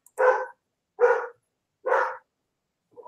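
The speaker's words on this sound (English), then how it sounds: "dogs barking. I can hear him." A dog barks three times in a steady, evenly spaced rhythm, fairly close and clear against a quiet room, then starts a fourth bark.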